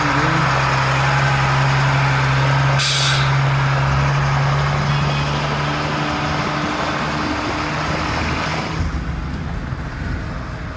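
A large truck built as an apocalypse vehicle rumbles loudly as it sets off, with a sharp hiss of air brakes releasing early on and the engine's deep drone continuing throughout.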